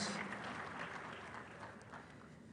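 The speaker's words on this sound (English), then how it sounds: "can we give you a round of applause?" A lecture audience claps together at a university public lecture, a steady, moderately distant wash of applause holding for a couple of seconds without voices.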